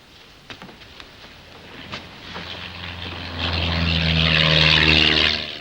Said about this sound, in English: That plane's flying low. It'll pass right over the island.